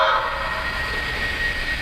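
A Lionel Lion Chief Plus 2.0 Polar Express toy locomotive gives a short, thin electronic whistle tone, sustained and fairly close, fading into a faint background hiss.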